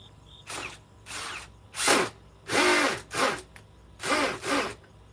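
A power drill driving an 8-inch fastener in short bursts, about six separate whirring pulses with brief pauses between, close and fairly loud.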